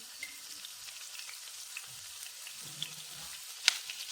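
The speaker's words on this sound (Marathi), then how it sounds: "तेल थोडंसं गरम झाल्याच्या नंतर यामध्ये आपल्याला लसूण आलं घालायचं आहे" Garlic and ginger fry in hot oil for Mumbai-style pav bhaji with a faint, light sizzle and scattered crackles, broken by one sharp utensil clink near the end.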